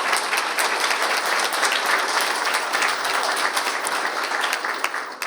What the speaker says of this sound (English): A warm round of applause to Anna.